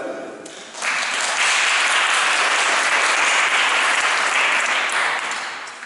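Applause at an outdoor prize-giving in Paris swells up after a brief pause and continues steadily as a dense, bright clapping from a sizable crowd, fading slightly near the end.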